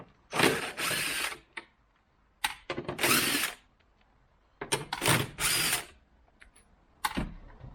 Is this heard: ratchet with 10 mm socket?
yes